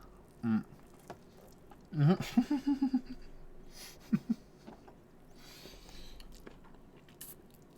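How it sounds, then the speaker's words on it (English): Someone chews ribs close to the mic, with a quick bite and then a short run of wet, crunchy chews, a few scattered mouth sounds and some talk around it. "Just shoving ribs in my face."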